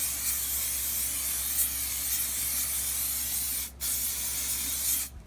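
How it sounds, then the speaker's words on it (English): Mann's 200 mold release is sprayed liberally inside a pressure pot as a loud, steady aerosol hiss running nearly continuously, broken by two brief pauses near the end. "shake up some mold release, some Mann's 200, and spray the inside of the pot."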